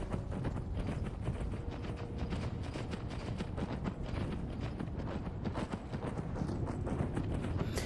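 Horse hooves gallop in the video game Skyrim VR, a rapid, steady drumming of clip-clops continuing throughout at moderate volume over low rumbling background.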